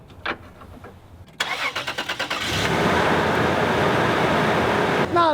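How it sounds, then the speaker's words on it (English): Toyota 4Runner with over 300,000 miles, its engine cranking briefly, catching with a burst of revs, then settling into a steady loud idle close by. "Listen to the engine. Check it out."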